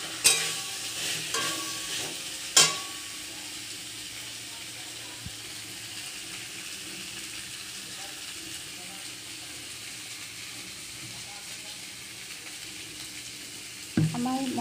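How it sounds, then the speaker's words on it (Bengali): Spice paste and potatoes being stirred and fried in a pan for a Bengali fish curry, a steady soft sizzle throughout with a few sharp scraping clinks near the start and end. "দু তিন মিনিট নাড়াচাড়া করে মিশিয়ে নেব, নিয়ে ভালোভাবে কষে গরম করে দেব।"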